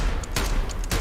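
Rapid bursts of gunfire from a multiplayer video game, a dense fusillade of sharp shots loud in the foreground, with a brief pause between volleys.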